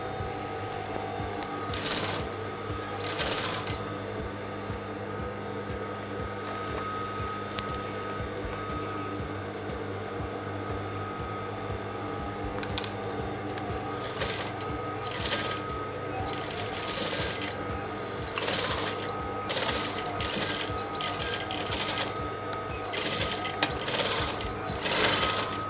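A sewing machine stitches the lining of a Yoruba fila cap, a steady mechanical whirr running close and continuous, broken by brief pauses and small ticks.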